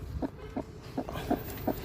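A hen fostering newly hatched ducklings gives a series of short, soft clucks at a steady rhythm, close by, over a low background rumble.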